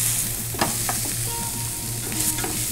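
Chicken is stirred into sizzling spices in a pan for chicken kurma, with a loud, continuous frying hiss and irregular scraping and clattering strokes up close.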